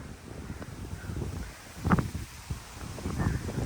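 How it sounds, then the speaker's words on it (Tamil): Wind gusts through the garden of a French-style bungalow in Chennai, buffeting and rustling in uneven surges, with a stronger gust near the middle and no speech. "காற்று பாருங்கள் நல்லா காற்றடிக்கக்கூடிய ஒரு ஏரியா"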